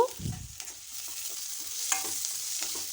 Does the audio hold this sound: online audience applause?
no